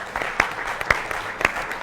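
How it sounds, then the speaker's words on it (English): An audience claps at an in-person charity holiday auction kickoff, a steady burst of applause with a few sharper individual claps standing out throughout. "We can clap for that."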